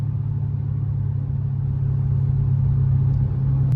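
A 1000hp Dodge Hellcat's engine gives a steady, loud low rumble close by, holding an even drone throughout with no distinct revs standing out.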